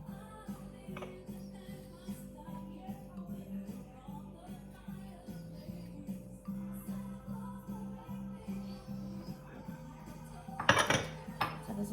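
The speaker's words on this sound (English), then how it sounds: "we're gonna add our egg, coffee, and extract mixture to our butter mixture. And we're gonna mix really good." Egg, coffee and extract are mixed into butter in a bowl, producing quiet, rhythmic clinking and scraping of a utensil against the bowl, ending in a louder clatter, soft and close.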